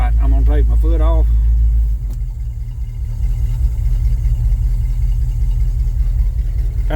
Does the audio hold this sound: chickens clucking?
no